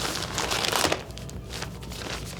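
A crinkly plastic shipping bag is handled and opened, giving a loud burst of close crackling and rustling followed by softer, intermittent crinkles.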